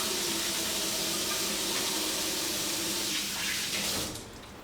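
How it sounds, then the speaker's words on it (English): Hands being washed under a running kitchen tap while cooking pulled pork, a steady close rush of water that softens and drops off near the end, with no talking. "I'm going to wash my hands before I touch that thyme"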